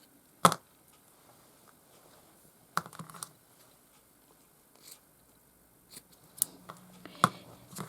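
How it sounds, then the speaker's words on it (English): Scissors trimming fabric edges on a zippered craft pouch, several short, sharp snips in a quiet room, spaced irregularly with a quick cluster near the end. "There'll be some trimming up to be done."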